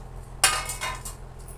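A metal utensil clinks against a kadhai while spinach fritters in gravy cook, giving one sharp strike followed by a few lighter taps in a quiet kitchen.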